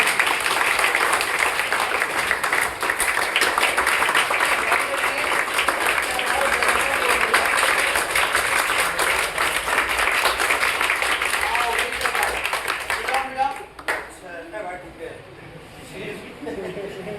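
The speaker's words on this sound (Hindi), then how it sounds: "6 बार जोरदार तालियां" Students in a room are given a long burst of loud, dense applause, many hands clapping continuously and close, fading near the end as a voice begins to speak.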